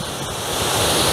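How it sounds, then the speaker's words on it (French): Mountain waterfall on a hiking trail near Sixt in the Haut Giffre valley, a steady loud rush of falling water close by, swelling slightly toward the end with no voices. "Encore une cascade."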